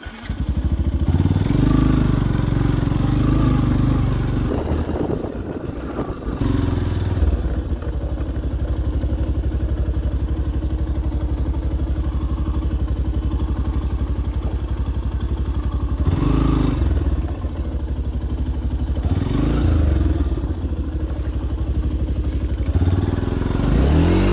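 A Yamaha FZ X motorcycle riding off-road on a rough, dangerous road, its engine droning steadily and loudly throughout with occasional revs, bumps and clattering, and no talking.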